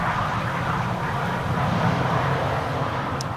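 A KLM Boeing 777-300 airliner arriving from Cape Town makes a loud, continuous rushing engine roar across the short stretch, close and unbroken.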